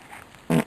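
A single short, low fart rumbles for a fraction of a second against quiet outdoor background.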